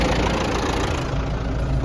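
A diesel MTZ 952.2 tractor with a newly replaced turbocharger runs steadily during deep ripping work. The engine gives a loud, continuous rumble with a dense, unbroken low drone and no voices.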